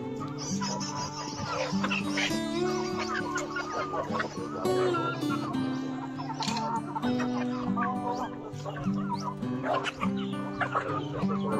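Darag native chickens on a Philippine farm cluck and call steadily throughout, near and fairly loud over a busy mix of farmyard noise, with a dog barking at moments and no talk.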